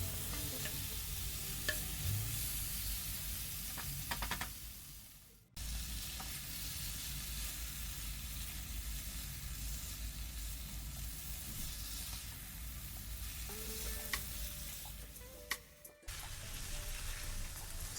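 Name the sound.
chicken frying with masala, sizzling and stirring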